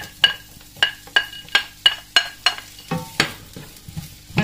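A spoon knocks rhythmically against a pan of onions in olive oil, giving sharp, evenly spaced metallic taps roughly every third of a second over a soft sizzle.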